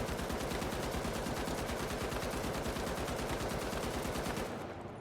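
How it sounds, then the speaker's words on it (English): An M60 heavy machine gun fires in a video game: one long, rapid, evenly spaced burst of loud shots that runs for several seconds and then cuts off abruptly. "Got the heavy, the M60. This gun kicks hard."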